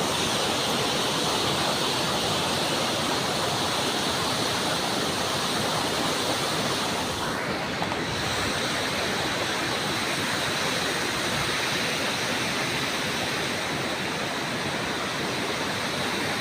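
The Kapanjin Falls waterfall pours with a dense, continuous rushing roar, close and loud throughout, with no voices.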